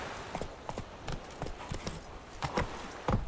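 The horse Roach galloping in The Witcher 3, a quick, uneven series of hoof clip-clops at moderate volume with no talk over it.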